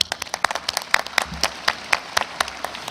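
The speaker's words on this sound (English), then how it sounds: "you are encouraged to clap" Commencement audience at a university graduation clapping, a scattered, uneven patter of individual claps rising and falling in bursts rather than a sustained ovation.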